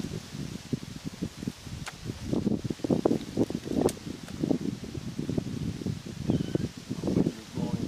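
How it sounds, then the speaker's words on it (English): Light wind gusts rustle through foliage outdoors at an air rifle shooting spot, a soft irregular rustling and low buffeting that rises and falls in uneven waves across several seconds, with no one speaking. "Wind is blowing just a little bit here."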